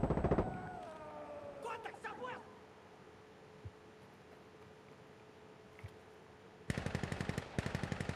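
Automatic gunfire rattles in a fast burst near the end of a stretch of Insurgency: Sandstorm play, preceded by a few scattered distant shots and soft game ambience.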